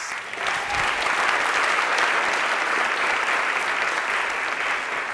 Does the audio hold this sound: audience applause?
yes